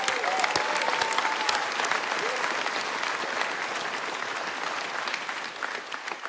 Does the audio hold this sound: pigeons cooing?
no